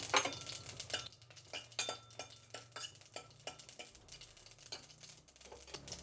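Red chillies tipped into hot oil with mustard seeds for a rasam tempering, giving a busy spatter of sizzling crackle broken by sharp clinks and scrapes of a metal spoon stirring in the pan, close and steady.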